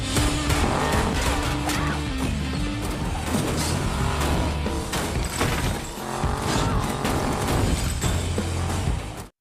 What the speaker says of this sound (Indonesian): dengan cepat Annie segera memundurkan mobil